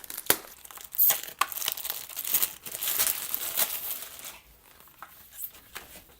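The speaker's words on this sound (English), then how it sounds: "Now I will rip the security seal and open it up." A security seal torn and a Lenovo Ideapad 14-inch laptop box opened: close sharp rips, then crinkly rustling of cardboard and plastic that fades toward the end.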